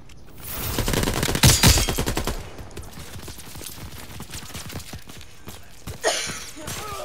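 Rapid bursts of gunfire from the World War II shooter game Call of Duty WWII, loud automatic volleys early on, then steady rattling shots and a later burst, with faint voices in the background.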